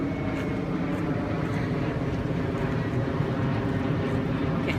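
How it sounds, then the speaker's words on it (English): An airplane drones steadily overhead in a suburban plaza in Melrose Park, Illinois, a continuous low rumbling roar holding at a constant moderate level throughout with no voices over it. "there's another plane that you hear coming"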